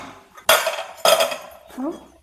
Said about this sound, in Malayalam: പ്രഷറൊക്കെ പോയി കഴിഞ്ഞു തുറക്കാം